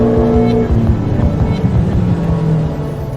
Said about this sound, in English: So we're going to do some more dyno runs.